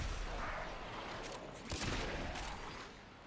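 Dense gunfire from shooting Thraxes in the video game Warframe forms a continuous muffled roar, with a heavier burst near the middle.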